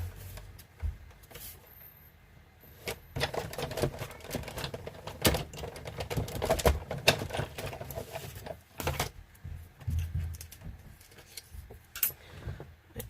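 A die-cutting machine cuts out a Ranunculus flower die, producing irregular close clicks, clacks and rattling bursts with short pauses between them.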